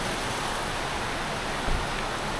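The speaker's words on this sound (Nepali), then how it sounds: "यत्तिको साह्रो आएको छ पानी चाहिँ।" Heavy rain pours down steadily in a dense, even hiss that fills the whole moment, unbroken apart from a brief louder gust near the end.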